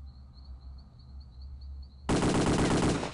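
Thompson submachine gun fired in the video game Return to Castle Wolfenstein, one loud continuous burst of rapid automatic fire lasting about a second that breaks in after a quiet ambient hum.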